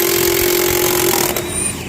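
A 12 amp-hour battery-powered impact wrench fitted with multiple adapters spins lug nuts off a large truck wheel, a loud steady motorized whine with hammering rattle throughout, easing slightly near the end.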